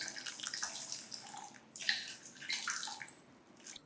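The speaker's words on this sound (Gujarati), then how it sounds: "ત્યારબાદ આમાં ગરમ પાણી ઉમેરી દેવાનું અને આને પલાળીને અડધો કલાક માટે રાખવાની છે." Hot water poured from a vessel onto dry soya chunks in a bowl, a steady splashing pour with a couple of swelling bursts over a few seconds, close and moderately loud with no voices.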